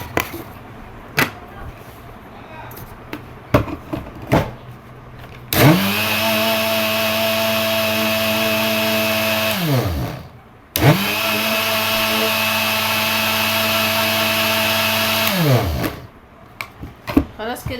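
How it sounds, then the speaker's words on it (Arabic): An electric blender whirs loudly in two long bursts mixing biscuit batter with milk, spinning up, running steadily, then winding down, with a short pause between and brief talk around them. "نضيف المقادير دي كلها في الخلاط ونضربها"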